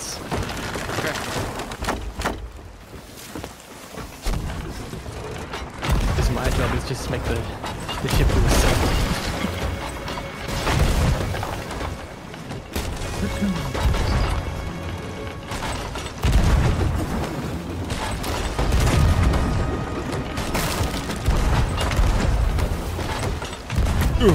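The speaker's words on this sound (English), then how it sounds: "get on cannon" Ship cannons fire in a naval battle in the pirate video game Sea of Thieves, with several deep booms spread across the stretch amid creaking, mechanical game sounds while players talk throughout.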